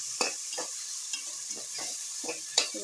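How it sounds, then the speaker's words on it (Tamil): Onions being stirred and sautéed in a pan for fish biryani, a series of repeated spoon scrapes in an uneven rhythm over a steady background sizzle. "இதை வந்து இப்போ வதக்கிக்க போகிறோம்"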